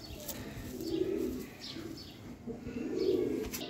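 Pigeons coo in low, throaty bursts, two clear rounds close to the mic, from large golden Kamagar breeder pigeons kept by a fancier, with faint chirps and rustling in the background.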